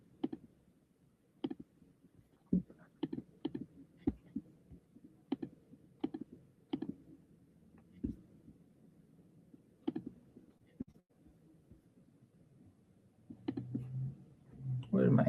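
A computer mouse clicks during a software demo, sharp isolated clicks at an uneven pace, about a dozen in all, close and fairly quiet, ending as a voice begins to speak.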